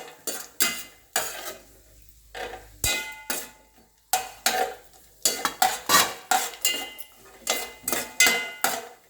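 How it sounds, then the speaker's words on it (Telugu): Peanuts, cashews and almonds being roasted together in a pan for a kichidi, giving a run of loud, repeated scraping stirs and clattering spoon-on-pan strokes with short pauses between them. "వేరుశనగుళ్ళు, జీడిపప్పు, బాదం పప్పు, డ్రై ఫ్రూట్స్ అన్నీ ఒకసారి వేయించుకుందాం ఫ్రెండ్స్"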